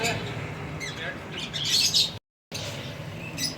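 Pigeons in a loft, including purple-throated and blue-throated Teddy birds, give scattered coos, chirps and squawks at close range, with wing flutters and shuffling, broken by a brief moment of total silence.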